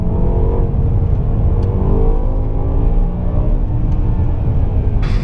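A BMW M6 with a 507 hp V10, in Compétition trim, revs hard in sequential manual mode, its dense, loud engine roar rising and falling without a break from start to finish.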